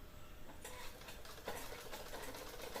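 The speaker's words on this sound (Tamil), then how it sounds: "ஃபுட்டை மேலே தூக்கிட்டு நம்ம டேர்ன் பண்ணி தைக்கணும்" A sewing machine stitches a neckline, with a steady close mechanical whir that starts up after a brief quieter moment and runs on continuously.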